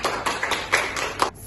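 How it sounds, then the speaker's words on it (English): Students in a biology classroom applaud a pair of classmates after their group presentation, a short burst of scattered, uneven claps from a small group that trails off into quiet after about a second. "give applause to Tiara and Tasha"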